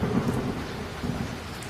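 Heavy rain pouring down with rumbling thunder, a dense continuous wash of rainfall over low rolling booms, steady and fairly close throughout.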